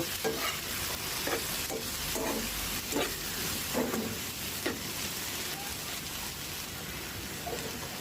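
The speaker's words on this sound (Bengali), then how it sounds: "ধনে পাতা কুচি দিয়ে দিব দিয়ে ভালো করে নেড়ে নিব" Chopped coriander being stirred into a simmering taro-stem curry: a constant soft sizzle under repeated spoon scrapes at a slow, irregular rhythm, close by and moderately quiet.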